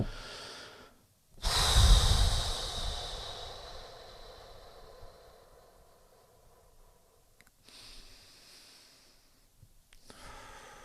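One deep breath drawn in through the nose and released through the mouth during a guided relaxation exercise: a loud, close breath followed by a long, softening exhale, then quieter breathing.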